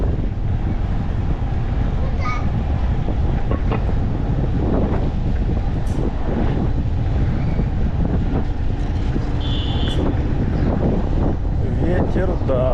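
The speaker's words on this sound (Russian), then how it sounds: "Ветер, да, блин." Strong coastal wind buffets the microphone on a June trip along the Crimean coast near Feodosia and Koktebel, a loud, constant rumbling roar with occasional voices underneath.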